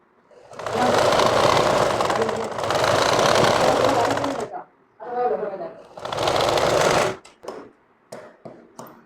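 Sewing machine stitching a folded hem on pajamas, running in long bursts of steady rapid whirring, with pauses and short stop-start runs near the end, while a person talks.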